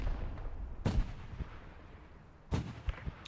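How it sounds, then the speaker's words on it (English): Artillery and gunfire in a WW2 battle in the game Post Scriptum: two heavy, booming blasts a couple of seconds apart, each followed by a fainter crack, with a low rumbling battlefield background between them. "They're fighting, I think they're shooting at a tank right now."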